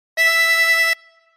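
One sustained blown note on a 24-hole tremolo harmonica at hole 11, a bright reedy tone with slight wavering that holds under a second, then fades quickly, alone.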